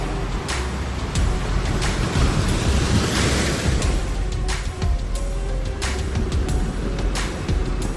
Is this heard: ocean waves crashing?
yes